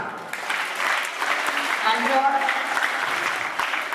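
At a school maths assembly, an audience of children applauds in a fairly soft, continuous patter of clapping that lasts about four seconds, with speech mixed in partway through.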